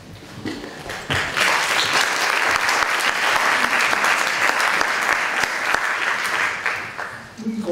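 Sustained applause from an audience at a talk on Pirandello's play, rising quickly to a dense, steady roar of many hands and tapering near the end, with faint voices underneath.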